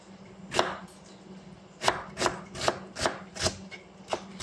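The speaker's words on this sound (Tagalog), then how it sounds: "Huwag ko na siyang hiwain ng maliliit kasi gulay naman kasi siya eh." A knife chops vegetables on a cutting board, several crisp separate strikes at an uneven pace, close and clear, while preparing vegetables to cook with fish.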